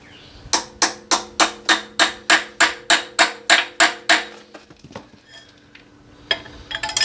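A rapid run of about fourteen evenly spaced metallic hammer blows rings out close by as a hex-head bolt is hammered out of a crawler, then a few scattered knocks and clanks follow.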